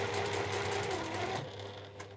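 A professional-grade sewing machine runs at speed with a steady mechanical whir and fast needle chatter, close and clear, then slows and quiets toward the end.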